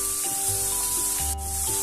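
Tomato paste fried in a pan and stirred continuously, a dense steady sizzle with scraping strokes of the spoon and a faint hum underneath, close and loud.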